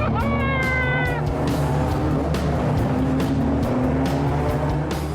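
A Ford Escort Mexico engine revs hard at a fast Ford meet, a rising whine in the first second giving way to a steady, loud rumble with repeated sharp bursts.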